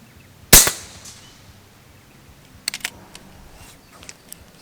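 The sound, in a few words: FX Impact air rifle shot at a playing card, 70 metres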